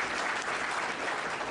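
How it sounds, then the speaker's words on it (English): Audience applause at a panel session, a dense, steady wash of many hands clapping at even volume throughout the short stretch. "Okay, round of applause."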